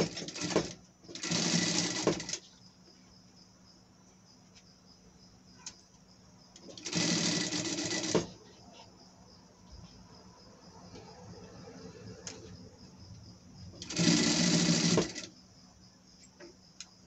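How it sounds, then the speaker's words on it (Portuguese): A sewing machine topstitches a seam on a pet dress, running in three loud, steady bursts of rapid mechanical stitching separated by quieter pauses with faint handling noise. "dobrar pra cima aqui e rebater a nossa costura"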